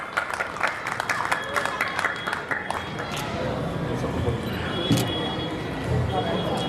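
An audience at a village Hindu community gathering for Republic Day claps in a steady, moderately loud stretch outdoors, mixed with crowd murmur and a voice talking over it.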